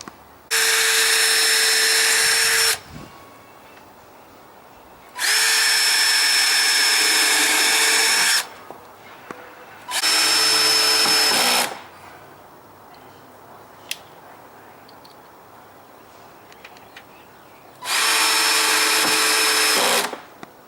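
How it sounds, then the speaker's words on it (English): A power drill whirs in four separate bursts of a few seconds each, driving screws while installing a storm door, with quiet pauses and small clicks between them. "if you have a drill with a clutch, I would use the clutch so that we don't over tighten the screws"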